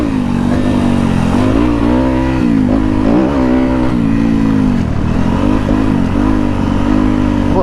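A Kove FSE 450 R Rally motorcycle engine drones loudly and continuously while riding, its pitch rising and falling with throttle changes, close and alone with no talk.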